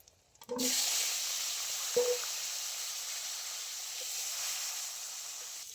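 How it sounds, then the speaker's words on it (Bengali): Chopped raw mango hits hot oil tempered with green chillies and panch phoron, erupting into a loud, sustained hiss and sizzle after a couple of quiet clicks, with a light tap of a utensil partway through. "এবারে আমি দিয়ে দিচ্ছি কেটে ধুয়ে রাখা আম"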